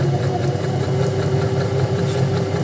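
A sewing machine stitches a fabric seam of a tailor's ham or seam roll, making a loud, steady, close mechanical whir with a rapid even pulse that runs without a break.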